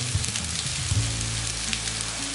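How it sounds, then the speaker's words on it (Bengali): Frying potatoes hiss and sizzle steadily in a hot pan after water is poured in, a continuous close crackle with faint stirring clinks. "এখন আমি জল দিয়ে দিচ্ছি সেদ্ধ হওয়ার জন্য।"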